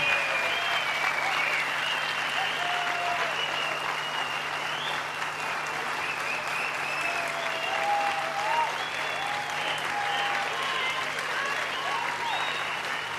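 Enthusiastic audience applause fills a live broadcast hall at the Atatürk Cultural Center in Narlıdere, İzmir, a steady dense clapping that carries on without a break for the whole stretch.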